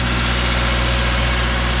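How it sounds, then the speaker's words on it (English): A Subaru car engine idling smoothly after a tune-up, a steady low hum with even mechanical rumble, heard close and loud with no variation and no voices. "it's idling very smoothly compared to what it was before"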